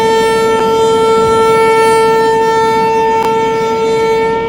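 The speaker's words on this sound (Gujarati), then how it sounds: "હવે ટ્રેનનો હોર્ન પણ વાગી ગયો છે" An electric train sounds its horn at a railway station in Ranuja: a loud, steady, sustained tone that holds through the whole moment, with rumbling train noise underneath.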